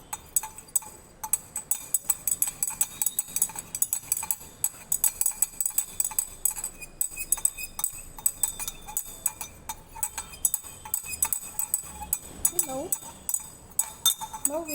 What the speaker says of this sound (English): I am going to stir it well